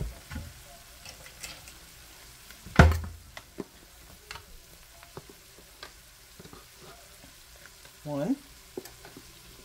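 Flour cooking in butter with onions and garlic in a pan, a soft steady sizzle with scattered stirring clicks and a couple of louder spoon knocks, a brief voice heard counting.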